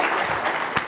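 A crowd at a Shark Tank night gives a short burst of dense, fairly loud applause that lasts under a second. No speech is heard over it.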